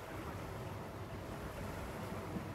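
Sea waves wash against a seawall, a steady broad rumbling surf with wind buffeting the microphone, continuous and fairly loud, no voices.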